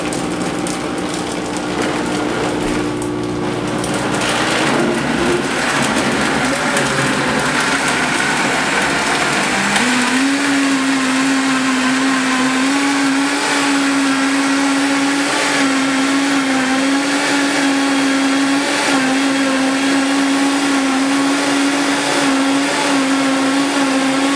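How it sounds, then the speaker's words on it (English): Vitamix blender blending lemonade, starting with a lower whir that ramps up sharply near the ten-second mark into a loud, steady high-speed whine sustained to the end. "So now we're ready to blend it up."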